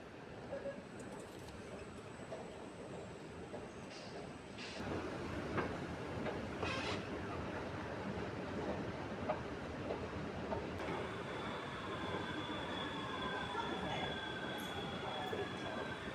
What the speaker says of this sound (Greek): πρόσφατα εγκαινιάστηκε το καινούργιο μετρό της Θεσσαλονίκης